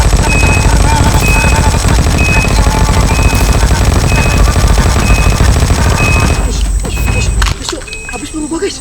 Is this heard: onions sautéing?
no